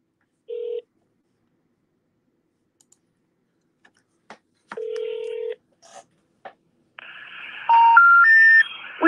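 Telephone being used to dial a number: a few isolated electronic beeps and faint clicks, then a louder sequence of stepped tones near the end, with no talking.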